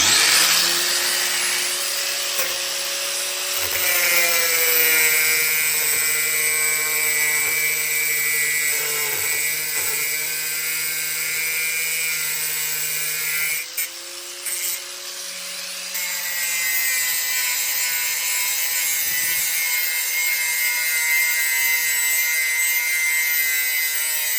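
A compact, one-handed angle grinder with a heavy motor from a Texa tool kit runs at high revs, giving a loud, steady whine that dips briefly midway before picking back up.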